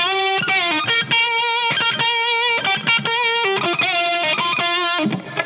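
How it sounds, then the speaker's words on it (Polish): Harley Benton BM-75 electric guitar played through distortion with pinch harmonics, squealing high overtone notes in a quick melodic run, loud and close, no talk. "Tylko że ja teraz to próbuję zrobić korzystając z techniki pitch harmonics"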